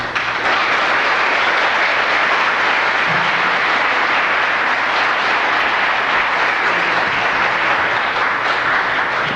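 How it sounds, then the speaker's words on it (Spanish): Strong, sustained applause from a church congregation, dense clapping from a large crowd continuing evenly for several seconds with no talking over it. "un aplauso fuerte para despedir a nuestro querido amigo y hermano William Soto Santiago"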